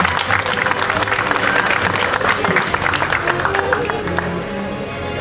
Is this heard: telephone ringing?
no